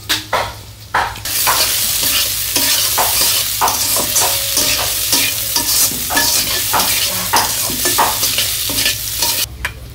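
Vegetables for chorchori stir-fried in a pan in a village kitchen, a steady close sizzle broken by repeated scraping strokes of the spatula against the metal, with a low constant hum underneath.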